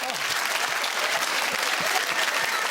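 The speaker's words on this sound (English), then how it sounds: "the audience clapped, and as the applause died" Sustained audience applause from a television studio crowd, dense and steady throughout, with many hands clapping at a moderate distance and no voices standing out.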